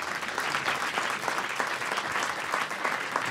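Studio audience applauding during a French radio interview, a dense, steady wash of clapping that fills the whole stretch without talk over it.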